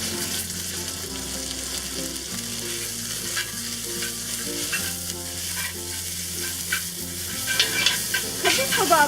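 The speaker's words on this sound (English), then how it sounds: "So now we'll cook the pork topping. Add some oil." Minced pork stir-fries in hot oil over medium-high heat, a steady close sizzle with scraping and stirring clatter that grows busier toward the end, with no voices.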